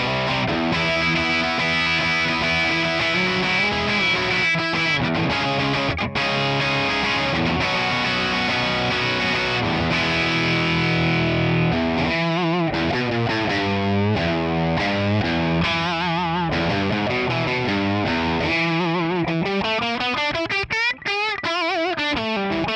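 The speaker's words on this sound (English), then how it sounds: "let's check it out without any reverb, and let's do some crunchy chords" Crunchy distorted electric guitar chords played through a captured Orange amp profile on a ToneX ONE, dry with no reverb, strummed loudly and steadily throughout with a dark, thick tone and shifting chord changes.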